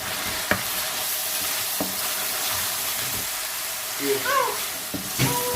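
Chicken and potato curry sautéing with dry spices and garam masala, a steady close sizzle with occasional scraping stirs and clinks, and a voice speaking briefly over it.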